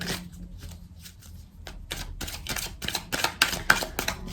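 Oracle cards are shuffled for a six-card reading, giving rapid, close riffling bursts of papery flicks that grow faster and louder toward the end, with no voice.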